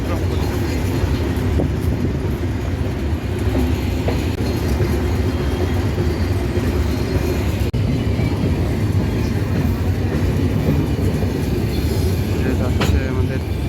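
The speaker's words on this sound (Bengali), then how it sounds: "ট্রেন কিন্তু ঝক ঝক ঝক শব্দ করেই চলা শুরু করছে।" The Rupsi Bangla Express runs on rails between Dhaka and Kashiani, heard from aboard as a loud, dense, continuous rumble with faint rhythmic clatter of wheels.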